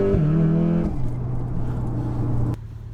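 A loud VW Golf R Mk7.5 engine and exhaust revving hard, a strong droning note that drops abruptly into a lower steady tone and then cuts off near the end, close by.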